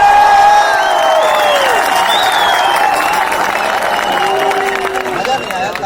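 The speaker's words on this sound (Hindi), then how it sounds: "मांग अच्छा लगे तो खूब तालियां बजाना।" Loud, dense crowd cheering and applause from a live audience at a coaching lecture, sustained and steady throughout with whistles and shouting mixed in.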